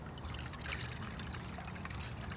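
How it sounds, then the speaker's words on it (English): Water sloshes and trickles inside a singing bowl, a faint, close liquid movement with soft irregular dribbling and no voices. "When you put water in the bowl, it changes the harmonic frequency that it picks up. It's a slight sloshing sound"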